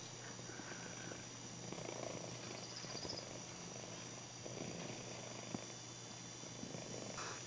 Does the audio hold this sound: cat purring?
yes